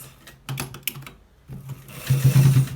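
A sewing machine stitches a shirt collar in short whirring bursts, the last run longest and loudest, with fabric handling noise between.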